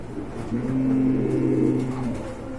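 Large pigeons coo in a low, throaty drawn-out call from a bird seller's stock, close by over faint background hum.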